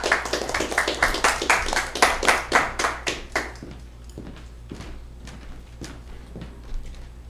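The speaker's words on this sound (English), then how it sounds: "Why don't you give Jay a welcoming applause here." A small audience claps for a guest being welcomed, a burst of close hand claps that thins after a few seconds into a few scattered, sparse claps.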